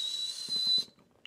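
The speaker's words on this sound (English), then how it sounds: "That's all I can do to whistle." A person whistles a single steady, thin high tone for under a second, then stops abruptly into near silence.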